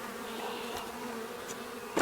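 Honeybees swarm and buzz during a residential hive cutout, a dense, steady droning hum running throughout, with a brief louder swell of buzzing near the end.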